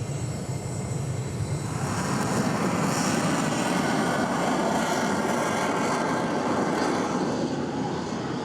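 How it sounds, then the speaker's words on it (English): An Austrian Air Force Saab 105, a high-wing twin-engine jet trainer from the 1960s in tiger-scheme paint, roars loudly and steadily past at an airshow, a broad jet rush that swells and fades slightly with no voices. "This is the Austrian Air Force in its very attractive Tiger-schemed Saab 105"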